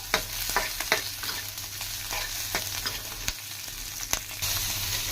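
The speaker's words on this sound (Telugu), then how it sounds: "చూడండి, ఈ పచ్చిమిర్చి ఇలా ఫ్రై అవుతుందో." Green chillies fry in a pan, crackling and sizzling steadily with repeated sharp pops and spatula stirs over several seconds, close and alone with no talking.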